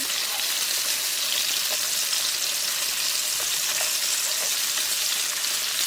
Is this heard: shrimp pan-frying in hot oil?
yes